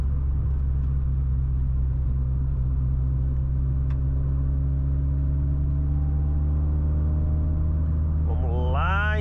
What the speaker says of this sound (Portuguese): Vou dar uma retomada aqui legal com o Astra